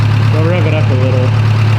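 A car engine with a slight knock revs briefly over a steady idle, the pitch climbing and falling twice in close, loud succession while someone talks over it.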